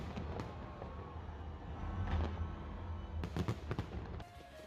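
New Year fireworks display at the London Eye on a sub-zero night, heard as a continuous rumbling roar of distant bursts with several sharper cracks and pops near the end.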